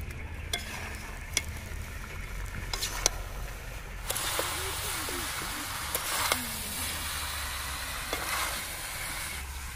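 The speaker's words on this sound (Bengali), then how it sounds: "ধনিয়ার গুঁড়ো, লবণ আর হলুদ আমি সব একসাথে দিয়ে দেবো। পাঁচ মিনিটের মতন আমি ভালো করে কষিয়ে নেব।" Chicken curry masala with coriander powder, salt and turmeric sautéed in a pan, a soft steady sizzle punctuated by sharp spatula scrapes and clanks against the metal, no voices.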